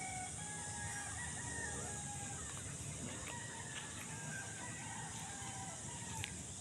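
Hens and roosters at a game farm breeding yard in Silang, Cavite, with repeated rooster crows and scattered clucking over a steady outdoor hum, fairly distant.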